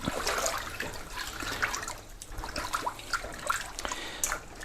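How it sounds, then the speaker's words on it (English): Freshly picked garden green beans rinsed under a running tap, a steady close splashing and trickling of water with small irregular drips and shifts. "You want to give them a good rinse."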